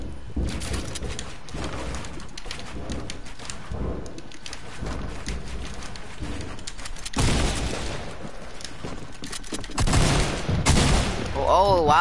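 Fortnite gunfire rattles in rapid bursts amid busy game sounds, swelling into louder, denser volleys in the later seconds.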